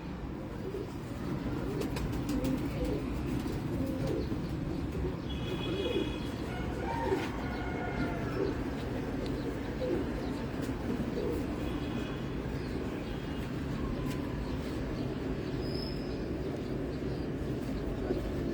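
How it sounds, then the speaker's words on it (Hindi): Pigeons coo repeatedly in a home loft that houses red-eyed birds, including a parrot-headed variety, the soft calls steady over a constant low rumble of background noise with faint higher chirps. "ये तोते सिर वाला कबूतर है।"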